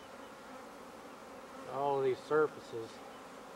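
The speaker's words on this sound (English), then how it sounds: "shake these bees off of." A swarm of honey bees spread across a heavy rake makes a soft, continuous background drone while someone talks over it.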